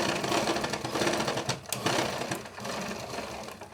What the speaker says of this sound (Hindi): आधा इंच हमारी दोनों साइड से सिलाई जा रही है